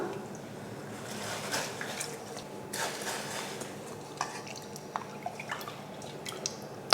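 Water pours and drips out of a pot as boiled rice is drained, with light clinks of metal cookware and a few sharp drips near the end.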